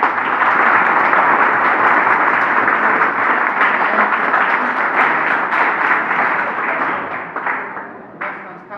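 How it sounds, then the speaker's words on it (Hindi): Loud, sustained applause from students at a polytechnic summer training event in Hathras, a dense roar of clapping that holds strong for most of the stretch and then thins out toward the end. "एक बार जोरदार तालियां बजाकर"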